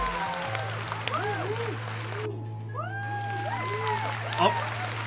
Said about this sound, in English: And the crowd goes crazy.